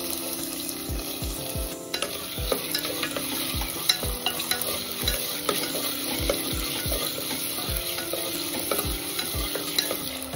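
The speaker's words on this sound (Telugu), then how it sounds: "వీటిని ఎర్రగా వేయించేసుకోవాలి" Potato pieces frying in oil in a kadai, a steady close sizzle broken by repeated sharp taps and scrapes of a spoon stirring against the metal pan, with no talking.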